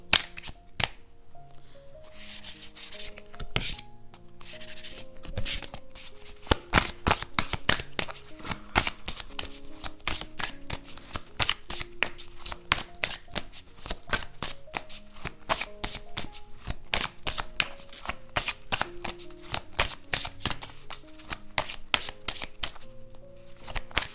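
Oracle cards are shuffled by hand in a long stretch of crisp, rapid riffling and flicking, quiet and close, with occasional sharper snaps as cards fall into place.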